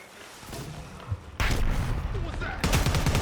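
Video game gunfire from an enemy-contact firefight, with dense bursts of shots running under shouted voices and growing louder in two sharp jumps near the end.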